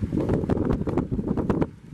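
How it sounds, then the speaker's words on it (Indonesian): Strong wind in a storm roars and buffets the microphone, with gusty rumbling and rustling bursts, loud and close throughout. "angin sangat kencang sekali ya"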